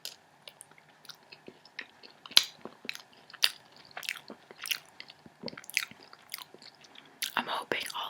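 Close, intimate chewing and crunching of pizza, with irregular bites, crisp crunches and soft mouth sounds spread across the stretch, quiet between bursts and louder toward the end.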